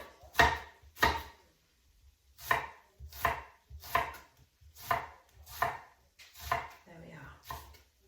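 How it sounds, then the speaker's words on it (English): Eight crisp knife chops through an onion on a board, fairly evenly spaced with a short pause after the first two, close and distinct with no talking. "I'll just chop the second half."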